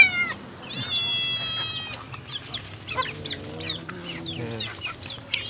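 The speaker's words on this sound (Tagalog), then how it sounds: "Marami po sila, yan, mga pusa." Many cats meow repeatedly at feeding time on a home in the Philippines, with chickens clucking among them, close and overlapping in a busy chorus.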